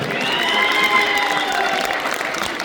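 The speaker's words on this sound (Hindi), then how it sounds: "मेरे दोस्तों के लिए जरा भरपूर तालियां हो रही" At an Urdu poetry gathering in Riyadh, Saudi Arabia, a large audience gives loud, sustained applause for the poet's friends, with some cheering mixed in and a tonal ringing under the clapping.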